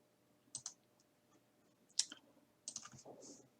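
Keys on a computer keyboard are pressed in short, quiet bursts of clicks with pauses between them, close and faint in an otherwise still room.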